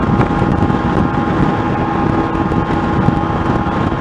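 Motorcycle engine revving high at about 10,000 rpm while cruising at 60 mph, a loud sustained whine buried under heavy rushing wind noise, steady and unbroken throughout.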